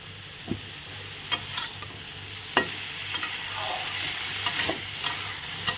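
Dhekia fern greens fry in a pan, stirred with a spatula that gives sharp scraping knocks at irregular intervals over a continuous low sizzle.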